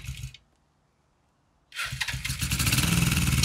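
A Suzuki GS450 cafe racer motorcycle cranks briefly, falls silent, then fires up close by into a loud, rumbling, uneven idle that builds and holds steady.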